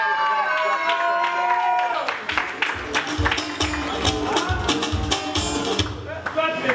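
An audience applauds for a DJ at a birthday bash, with dense rhythmic clapping and cheering that rises after an announcer's voice and continues loudly beneath further talk.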